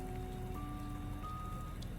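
Steady rain, mixed with sleety snow, falls outdoors in New Zealand, a faint continuous hiss of drops on surfaces with a few soft tonal hums in the background.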